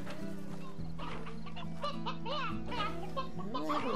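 Chickens cluck steadily in a Slime Rancher farm scene, several birds chattering close and loud over a low game music bed, with a faint voice briefly mixed in.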